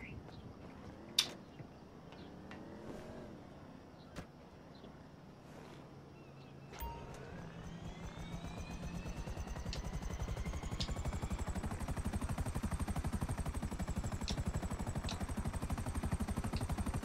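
A helicopter in GTA V Online spins up with a rising whine and builds into a steady rotor throb, joined by sharp clicks and short bursts, with a voice speaking at times.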